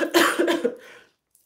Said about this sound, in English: I gotta blow my nose, y'all.